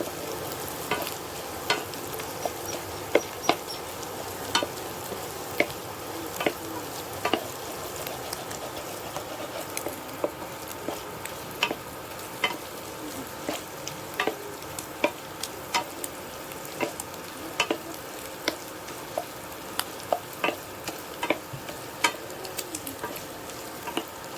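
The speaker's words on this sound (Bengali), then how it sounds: "এভাবে কড়া করে ভাজতে হবে একটু লাল লাল করে বাদামি কালার হয়ে যাবে ব্রাউন কালার" An egg-based sweet mixture fries in a pan with a steady, close sizzle. Frequent light scraping and stirring taps run through it, and no one speaks.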